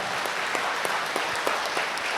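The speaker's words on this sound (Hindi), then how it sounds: "एक बार जोर से ताली बजा के प्रभु को धन्यवाद दो ना" A congregation at Good Shepherd's Catholic Church in Hauz Khas claps loudly and steadily together, giving thanks to the Lord. The sustained applause fills the room with no voices over it.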